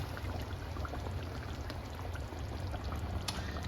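Half-thawed canned coconut milk is poured into a pot of curry chicken that has been cooking without liquid, making a steady, soft, continuous splashing pour with no talking.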